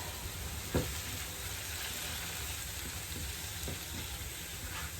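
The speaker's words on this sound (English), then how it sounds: "Now we're going to combine these, stirring constantly until warmed through 1 to 2 minutes." A salted mixture is stirred in a hot pan, a steady close sizzle and frying hiss with a few soft clacks of a utensil and one brief knock near the start, and no voices.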